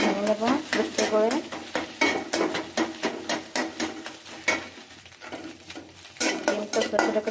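Eggs frying in a pan while a spatula chops and stirs them, giving repeated sharp metallic scrapes and taps over a steady sizzle, close and loud.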